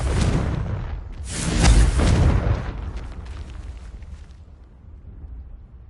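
A Confringo spell in the video game Hogwarts Legacy sets off a booming explosion. A deep rumbling burst swells around the second second and then fades into a lingering low decay.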